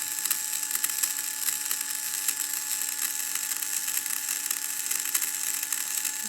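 A small DC motor, its speed set by a potentiometer, runs steadily with a fast, close, even mechanical buzzing and ticking that stays constant throughout, with no talking.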